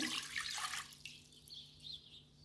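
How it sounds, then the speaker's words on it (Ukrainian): Water splashes and pours into a pot for about a second, then quieter trickling and drips follow, close by. "У горниць виливаю воду"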